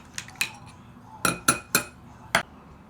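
A spoon clinks against a container while stirring a yeast mixture for blackberry wine, with about six sharp, bright taps in a quick uneven rhythm, close and fairly quiet.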